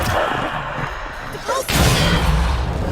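Bombarda blasting spell from Hogwarts Legacy erupting in a loud rumbling explosion with a sharp onset partway through, over constant battle noise.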